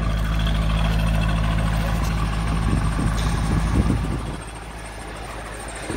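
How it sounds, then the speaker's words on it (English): A 2002 Chevrolet Corvette engine idles steadily with a low rumble, a faint squeak from a wet belt riding on top; the idle drops slightly near the end. "please pardon squeaking, it's a wet morning, so the belt is a little wet"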